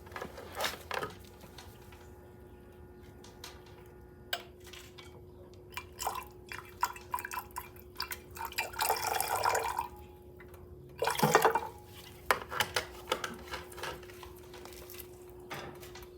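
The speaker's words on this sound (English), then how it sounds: "Pour a little bit more nitric in our beaker with the gold in there" Nitric acid poured into a beaker holding gold during refining of magnetic and junk gold, giving faint drips and a short liquid splash with a steady hum behind it.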